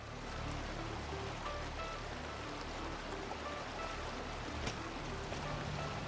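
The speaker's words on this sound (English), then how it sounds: "Guess it's too fast running water, even though it is deep." Running water in the video game Satisfactory, a steady, fairly quiet broadband rush of flowing water with no gaps and no distinct events.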